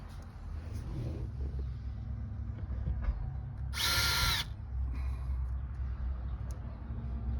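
A power drill drives screws back into the interior of a 1949 Ford during headliner upholstery work: one short, loud whirring burst near the middle, over a low steady background rumble.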